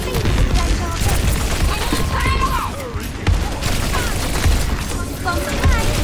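Rapid gunfire from the video game Overwatch, dense bursts of shots and blasts with explosive booms layered over a chaotic, loud battle mix, with voices talking over it.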